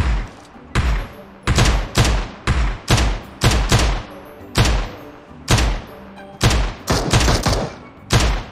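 Gunfire in the mobile shooter PUBG Mobile: loud, close bursts of shots, some single and some in quick strings, separated by short pauses, each with a booming low thump and a bright decaying crack.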